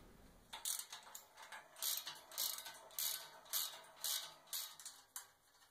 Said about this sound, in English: fix before tightening everything up again with the socket wrench